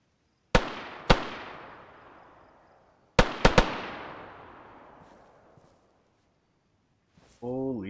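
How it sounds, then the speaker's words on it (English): Gunfire exchange in the DayZ video game: several sharp shots ring out in pairs and triplets, each leaving a long decaying echo, with a brief voice rising near the end. "They're firing back at each other, and I'm just hiding in this fucking tree."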